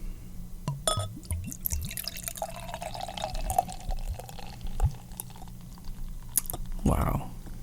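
Home-brewed pumpkin beer is poured into a glass, with splashing, trickling liquid and clinks of glass, close and moderately quiet, while a person speaks over it.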